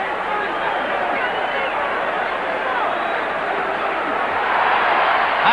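A large boxing arena crowd at an Ali versus Jimmy Young bout roars in a sustained, excited wave of cheering and babble that swells slightly toward the end.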